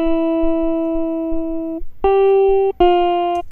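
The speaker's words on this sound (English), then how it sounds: "I really just play this with my electric guitar like the other ones" A clean, dry electric guitar sounds a long sustained note, then two shorter plucked notes after a brief pause, bright and close with no effects.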